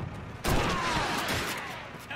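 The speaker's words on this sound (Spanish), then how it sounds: "¡Estoy recibiendo muchos disparos por aquí!" Gunfire in the PC game Call of Duty 2 during a base-defence mission: a sudden dense wall of sustained shooting that starts abruptly and stays loud and steady to the end.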